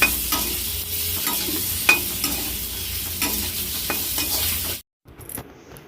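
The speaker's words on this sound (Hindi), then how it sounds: "तो छौंक दिया है कटहल।" Jackfruit tempered and stir-fried in a pan gives a steady close sizzle with scraping stirs and a few sharp clinks, then cuts off abruptly near the end before a quieter, fainter stretch.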